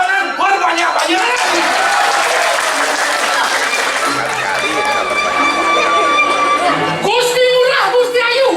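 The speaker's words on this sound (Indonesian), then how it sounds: "Tepuk tangan berbanyak-banyak." A crowd at a Balinese drama gong comedy show breaks into long, sustained applause with some cheering and chatter, while a voice carries on over and after the clapping.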